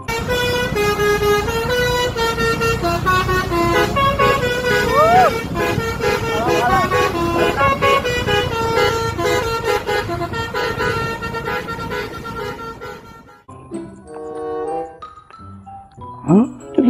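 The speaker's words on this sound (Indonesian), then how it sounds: "Kali ini ada bus Prima Jasa teman-teman." A Prima Jasa bus sounds a loud, melodic multi-tone horn that plays a steady tune for about thirteen seconds, then drops away into quieter road noise with a few fainter tones.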